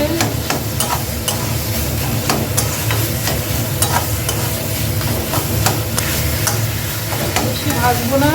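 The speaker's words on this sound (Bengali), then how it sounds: "নাড়তে থাকতে হবে এইভাবে। সব মিশিয়ে নিতে হবে এইভাবে।" Chicken filling for fried rolls is stirred and fried in a pan, with sizzling broken by regular sharp scrapes and knocks of a spoon against the pan, close and fairly loud.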